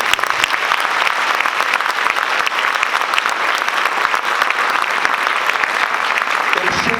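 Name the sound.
audience applause after jazz ensemble concert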